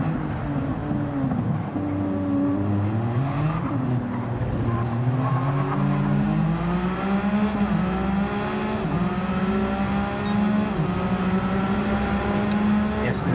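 Race car engines from Gran Turismo 7 at Spa, heading up toward Eau Rouge, wail continuously with pitch sweeping up and down through gear changes, several cars layered close together, loud and steady throughout.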